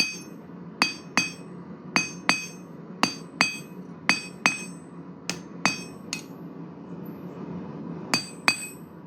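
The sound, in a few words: hammer forging metal, drawing out a taper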